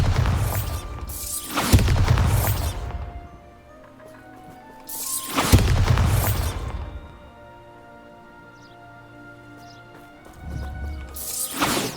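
Bombarda blasting spells explode in the video game Hogwarts Legacy: two heavy booming blasts, each trailing off in a long, rumbling decay, with a third blast starting just at the end.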